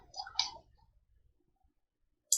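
Computer mouse clicks in drafting software: a soft cluster of clicks at the start, a long quiet gap, then one sharp click at the very end, close and clear.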